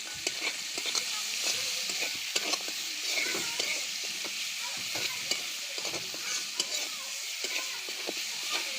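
Leafy greens sizzling in a pan with oil, frequent crackling pops and stirring scrapes over a moderate, continuous fry; a faint voice may surface briefly.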